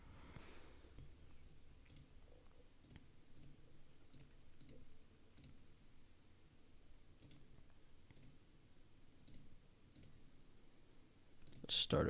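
Keys on a computer keyboard click in sparse, quiet taps at irregular intervals, close and faint, with a louder burst of noise at the very end.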